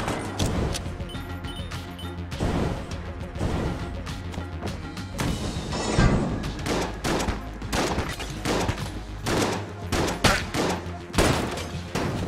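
Gunfire in the Enter the Gungeon game, a dense flurry of rapid shots and impacts over game music, continuous and fairly loud with no talk.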